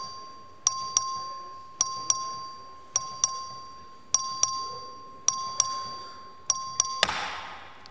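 Voting bell in the Texas House chamber rung for a record vote, a series of sharp electronic dings repeating in pairs and triples at a steady pace, each decaying quickly, ending in a louder burst of noise.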